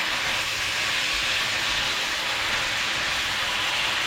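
Food frying in a pan gives a steady, loud, dense sizzling hiss that holds without a break from start to finish.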